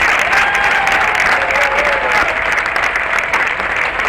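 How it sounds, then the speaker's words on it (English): A crowd lining the Battle of Plattsburgh parade route applauds loudly and steadily, a dense, close wash of clapping that continues without pause for several seconds. "Now come on, you can do a bigger round of applause than that."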